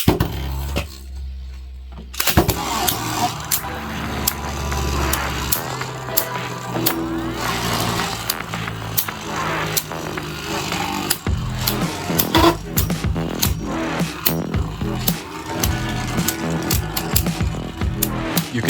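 Spinning Beyblade tops, a Cyclone Valkyrie and a Savior Perseus, battle in a plastic stadium, and a bearing driver spins inside one of them. The recording is a loud, busy stretch of grinding, scraping and sharp clattering collisions that follows a brief lull near the start.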